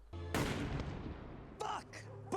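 A single loud gunshot with a sharp attack and a long decaying tail rings out in a survival film, followed by brief, quieter sounds.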